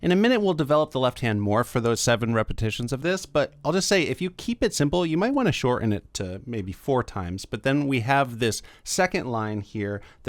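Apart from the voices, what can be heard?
None of the usual background noises is heard.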